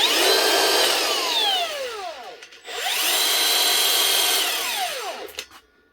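A Makita DUT130 cordless mixer runs at low speed, a steady close whirring motor that winds up and slows in two bursts with a brief dip between, no voices.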